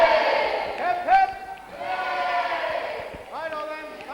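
A festive crowd of children and adults gives Father Christmas rousing cheers, loud bursts of many voices rising and falling in a few separate waves with brief dips between them.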